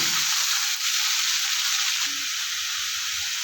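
Desi chicken meat frying in oil makes a constant, close sizzling hiss, unbroken and fairly loud, with a faint clink partway through and no speech.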